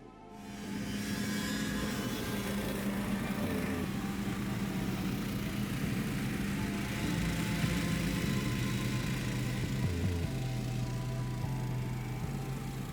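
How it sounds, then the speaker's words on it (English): Stealth Captain and Irbis 150 motorsleds racing over snow, small engines buzzing loudly and steadily for many seconds, their droning pitch shifting as they accelerate and ease off. "Stealth Captain is slightly faster than Irbis 150"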